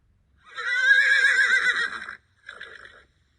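A horse whinnies loudly in a long, wavering call, followed after a short pause by a briefer, softer neigh, with no other sound around it.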